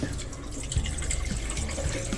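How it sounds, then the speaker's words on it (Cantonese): Tap water runs steadily into a sink while gum tragacanth is rinsed in a home kitchen, a continuous close splashing flow with a few small clunks of handling and no talk. "開水喉就唔好開咁大"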